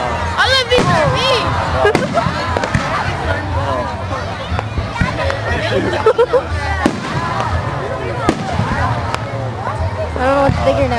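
Fireworks bursting over a Rosemead Park show, sharp repeated booms and crackles at irregular intervals under a steady babble of a nearby crowd talking and exclaiming.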